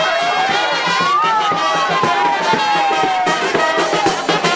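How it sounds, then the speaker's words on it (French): A huge crowd gathered outdoors to welcome a politician, a dense, loud wash of voices, cheering and shouting, with a whistle-like tone rising and falling above the throng. "c'est une foule immense qui s'est mobilisée pour l'accueillir"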